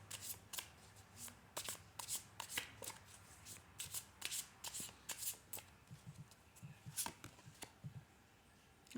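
A tarot deck shuffled quietly by hand to draw a clarifier card, a run of soft, crisp card snaps and flutters in uneven clusters, close and alone.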